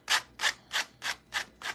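A sanding block rubs back and forth in six even strokes, each a soft, close, hissing scrape with short pauses between, alone without talk.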